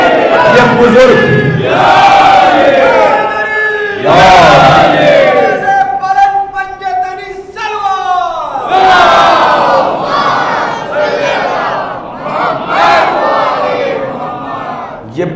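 A congregation at an imambargah majlis chants religious slogans in loud unison, with rising, sustained collective shouts in waves that fill the hall, close and powerful, and a lone voice leads between the responses.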